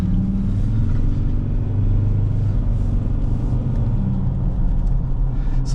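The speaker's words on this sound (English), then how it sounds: "So you can hear the tire roll a little bit." A Ford Ranger Wildtrak 3.2 automatic in Raptor Edition trim, driving along with its tires rolling, giving a steady low road rumble and engine hum from inside the cabin and no talk.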